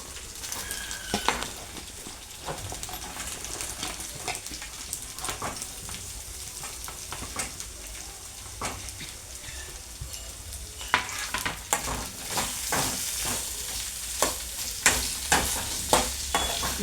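Bottle gourd pieces drop into a browned tempering and fry with a busy, crackling sizzle, broken by frequent spoon scrapes and clicks that grow louder and sharper toward the end, with no talk.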